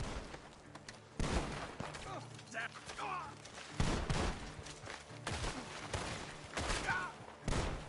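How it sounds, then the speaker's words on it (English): Bursts of rapid gunfire crackle through a noisy, busy mix from the video game Red Dead Redemption 2, coming from a barn, with mechanical clatter and a few short vocal sounds, moderately loud and continuous. "The gunshots are coming from that barn."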